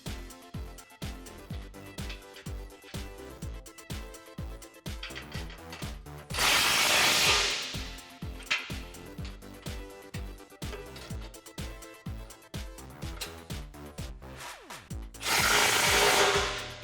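Power tool tightening the hardware on a Jeep Wrangler JK front bumper with a Barricade skid plate: two loud, whirring bursts of a couple of seconds each, separated by quieter clanking and handling noises.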